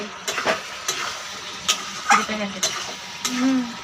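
Meat being sautéed and stirred in a pan for a home-style dry curry, soft sizzling under periodic spoon scrapes and taps, close but fairly quiet, with a few brief murmured sounds.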